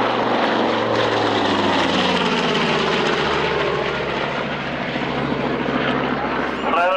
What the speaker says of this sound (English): here comes our Avenger.